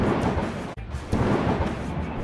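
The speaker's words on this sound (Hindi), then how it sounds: "आगे बिजली कड़क रही है, बादल गरज रहे हैं" Thunder rumbles through a desert storm on an expressway, a broad, steady roar with a sharp break partway before the rumble swells back, loud and continuous, with no talking.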